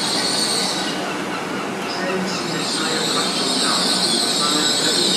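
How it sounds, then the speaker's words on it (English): A British Rail Class 800 passenger train rolls into platform 3 at Cardiff Central with a steady rumble and high metallic wheel squeal, heard from close by on the platform. "And behind it is a train from Holyhead."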